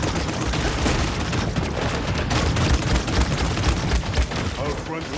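Rapid minigun fire from a video game, a dense continuous roar of gunshots running loud and unbroken throughout, with no talking.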